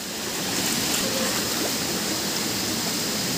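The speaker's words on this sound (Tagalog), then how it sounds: "Malakas ang agos na to, ah." A strong river current flows in a steady, full broadband rush of water at night outdoors, continuous and fairly loud throughout with no pauses and no talk.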